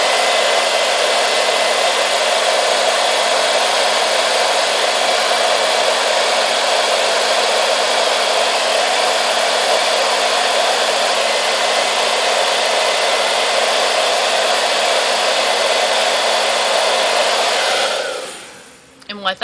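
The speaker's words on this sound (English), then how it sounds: "who has your handy dandy hair dryer around when you're getting ready? I'll put it on my high heat" A handheld hair dryer on high heat blows in a loud, steady, close rushing roar for about eighteen seconds, then winds down and cuts off at the end.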